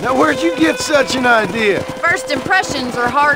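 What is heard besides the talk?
No everyday noises stand out.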